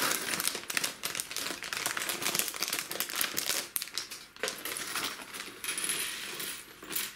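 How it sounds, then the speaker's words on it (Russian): Plastic bag of Lego pieces being opened, crinkling plastic with rattling clicks of small bricks shaken inside, close and continuous with bursts of rustle and no talk. "Пакетик открывать."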